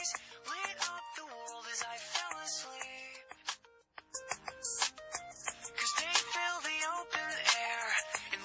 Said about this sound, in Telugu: ఒకసారి బంటుగాడికి ఫోన్ చేస్తే సిటీలో పరిస్థితి ఏంటో తెలుస్తుంది.